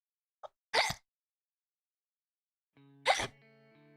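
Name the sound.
sneeze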